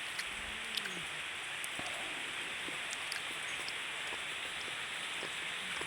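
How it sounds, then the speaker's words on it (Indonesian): Heavy rain pours steadily and evenly, a broad constant hiss of falling water with scattered drop impacts, continuing without a break and with no voices. "Maaf suaranya agak berisik soalnya hujan deras guys."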